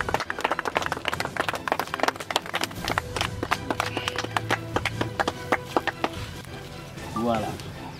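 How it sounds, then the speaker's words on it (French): A small audience at an Easter church celebration claps in sharp, uneven bursts close by, the clapping gradually thinning out as a brief voice comes in near the end. "on peut applaudir, hein?"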